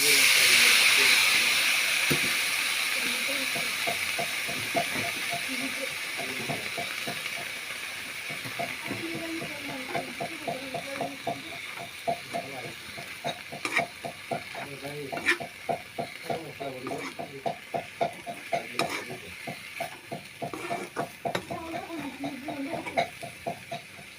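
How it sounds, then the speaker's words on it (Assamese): Dhurum flower greens drop into onions frying in hot oil, setting off a loud sizzle and hiss at first that settles into steady frying, with spoon or spatula stirring clatter repeating near the end. "এতিয়া মই দৰুমফুল শাকখিনি দি দিম।"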